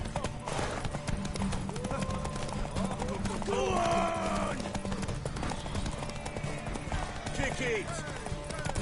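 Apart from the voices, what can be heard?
horse hooves galloping in a race, from the video game The Witcher 3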